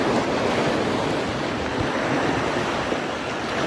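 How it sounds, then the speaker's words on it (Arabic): Sea waves surge and wash around rocks where people stand, surrounded by water. A loud, continuous roar of surf mixed with wind buffeting fills the whole stretch. "بصوا احنا واقفين فوق الصخر وحوالينا بقى الميه في كل مكان زي ما انتم شايفين."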